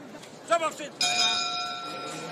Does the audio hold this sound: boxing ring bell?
yes